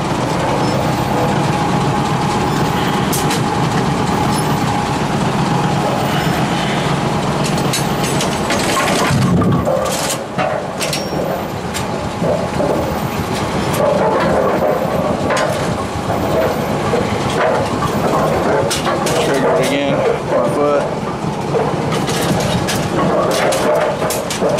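Bowling lane pinsetter machine running after being triggered, a steady loud mechanical rumble with rattling, clattering wood-and-metal knocks throughout.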